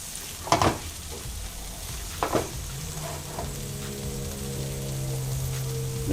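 Taco filling frying in a pan with a steady crackling sizzle, a few sharp stirring knocks near the start, then a continuous close fry with a low hum underneath.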